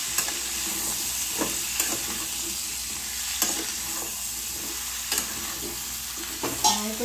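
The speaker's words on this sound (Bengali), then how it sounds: "একটু ভাজছে" Mango pickle pieces fry with turmeric in a pan, a steady close sizzle broken by a few clinks and scrapes of a stirring spoon, with no talking.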